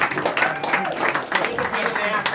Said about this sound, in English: So give Eric a round of applause.